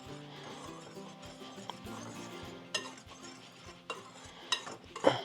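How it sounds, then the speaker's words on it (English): Quiet clinks and scraping of a whisk stirring dry ingredients for baking powder biscuits in a bowl, soft irregular taps with a few sharper knocks toward the end. "you just want to whisk it all together and just kind of mix it together"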